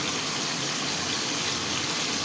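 Water gushes steadily into a cooking pot of curry with bottle gourd and potato, a loud continuous pour with no pauses.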